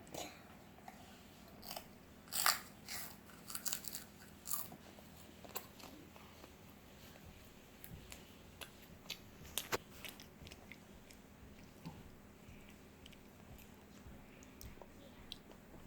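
A six-year-old child bites into and chews a crunchy red rice cracker from a traffic-light-coloured set, giving scattered close crunches and clicks with soft mouth noises over a quiet room.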